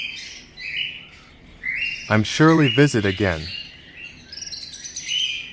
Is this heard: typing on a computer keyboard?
no